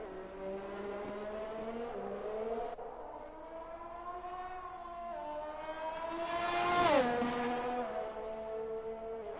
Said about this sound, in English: that's the Red Bull of EJM, who is leaving the pits, pitting for those soft compound tyres